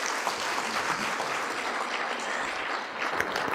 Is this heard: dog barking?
no